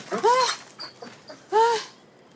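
A dog whimpers and whines in two high, drawn-out cries close by, separated by a short pause with faint panting and small noises between them.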